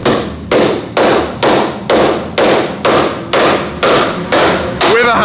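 Hammer blows on a car body, metal being knocked out for clearance for different wheels: about eleven loud, evenly spaced strikes roughly every half second, each ringing briefly before the next, close up with no talking.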